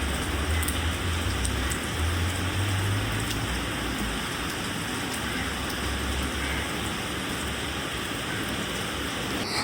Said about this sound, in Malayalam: നമ്മുടെ ഇന്നത്തെ ദിവസം തുടങ്ങിയ ഒരു മഴയിലാണ്